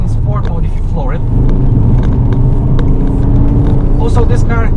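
Remapped Volvo V40 compact hatchback, 173 horsepower, accelerating hard in sport mode with the throttle floored, a loud, close, continuous engine drone and rumble that swells midway and holds steady.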